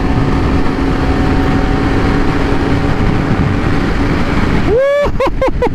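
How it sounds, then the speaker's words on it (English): A Kawasaki Ninja ZX-4RR motorcycle runs at high speed on a highway, its engine a loud continuous drone under rushing wind, with a quick rising rev near the end. "I can feel the engine just wants to be on the highway right now."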